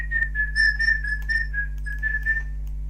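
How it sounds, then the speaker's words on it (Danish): A person whistles a wavering tune in the background of a League of Legends gaming session, a steady stream of melodic notes played at moderate loudness over a constant low electrical hum. "Ja, det er Kasper, der fløjter baggrunden"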